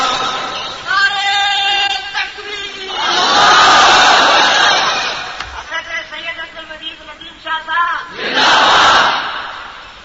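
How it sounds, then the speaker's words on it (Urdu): A large crowd in a mosque gathering chants religious slogans in loud, surging bursts. Several swelling group shouts rise and fall, with a lone voice leading between them. "یہ تمہارے نعرے ہیں، رسمی نعرے"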